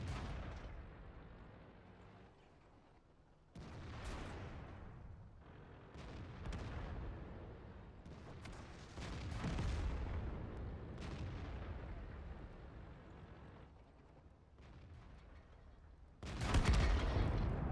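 Tank cannon fire in World of Tanks, with a KV-2 among the vehicles, comes as several heavy booming blasts and rumbling explosions spread across the battle, ending in a loud close shot.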